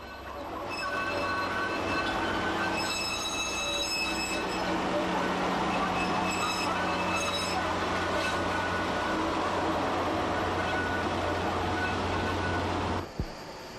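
Bord na Móna diesel hydraulic peat railway locomotive near Lanesborough hauling a rake of empty wagons: a steady, loud engine drone with wheel squeal and rattling wagons throughout, ending in a sharp clunk.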